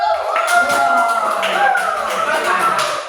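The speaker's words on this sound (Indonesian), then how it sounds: "kasih tepuk tangan dulu." A classroom group applauding after a presentation, with a burst of scattered hand claps mixed with children's voices calling out, loud and close for a few seconds.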